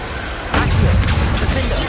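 A Confringo blasting spell from Hogwarts Legacy on PS5 bursts in with a sudden loud boom about half a second in, followed by a sustained crackling, rumbling blast that fills the rest of the moment.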